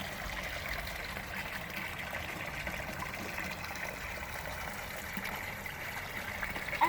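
Water trickles steadily down a small rock waterfall into a backyard pond fountain, a soft, continuous splashing heard fairly faint and close, with no talk over it.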